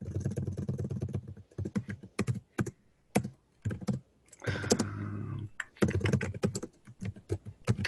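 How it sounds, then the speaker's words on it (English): Rapid, irregular keyboard typing in dense bursts of clicks, close by, with brief pauses between flurries. "You can probably hear me typing like crazy"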